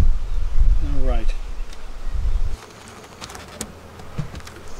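Honeybees buzz close by around a packed hive, a droning hum with rising and falling tones, followed by quieter scattered rustles and clicks.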